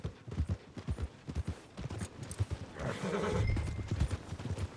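A horse in the Red Dead Redemption 2 video game: steady, close clip-clop of hooves, then a drawn-out neigh and whinny rising over the footsteps near the end.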